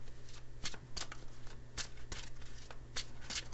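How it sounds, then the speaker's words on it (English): Lenormand cards shuffled and pulled at close range, a steady rustle with sharp flicks and snaps scattered through it, over a low constant hum with no voice. "I'm going to pull a couple of these Lenormand cards here"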